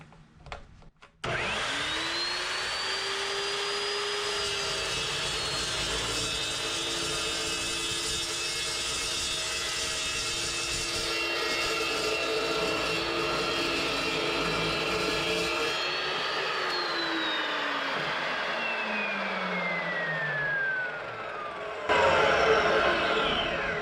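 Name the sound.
Evolution cut-off saw cutting thick metal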